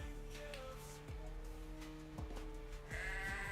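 A goat bleats in repeated wavering cries, fairly close and clear, with several calls running into one another over a faint background, and no one speaks.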